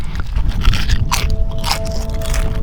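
Crunchy crisps being bitten and chewed close up on an outdoor walk, a steady run of crackly, scraping crunches that carry on with no pause and no talking.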